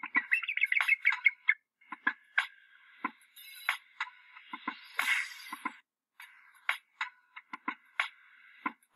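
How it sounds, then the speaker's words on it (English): A bald eagle calls in a series of high, thin, chattering chirps and squeals, clear and close, in short bursts separated by brief pauses. "Bald Eagle."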